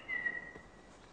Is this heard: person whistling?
yes